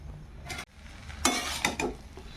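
Prawns are stirred in an uncovered pan, with bursts of scraping and clattering from a spoon against the pan over a faint underlying sizzle, coming in uneven strokes after a brief quiet gap.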